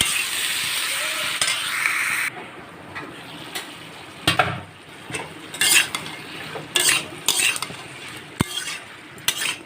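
A spoon stirs ridge gourd frying with a fish head in a pan, scraping and clinking in irregular strokes over a soft, close sizzle.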